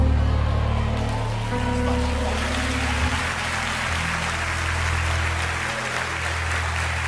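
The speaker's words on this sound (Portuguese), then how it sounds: "Porque todo mundo se abriu num sorriso e até aplaudiram?" Church congregation applauding during a sermon by Pastor Marco Feliciano at Igreja Voz da Verdade, a steady, dense clapping that fills the whole stretch under a low background hum.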